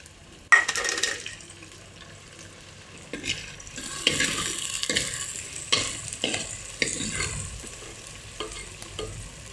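Chopped tomato stirred into softened onions in a pan for a sardine curry, giving a steady sizzle with repeated scraping stirs and clinks of a spoon, close and moderately loud, with no talk.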